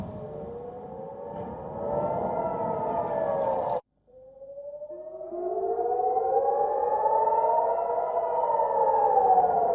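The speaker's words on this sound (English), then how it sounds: "warning sirens can be heard in the background for residents to take shelter" Civil defense warning sirens wail across northern Israel, calling residents to take shelter: a loud, sustained rising and falling tone with a brief cutoff near the middle before the wail swells back up.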